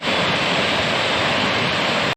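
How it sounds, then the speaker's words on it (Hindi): Dhani waterfall in Neelum Valley, Kashmir roars as a steady, dense rush of falling water, loud and close throughout the short stretch without any voices. "ये मेरे पीछे है धनी वाटरफॉल"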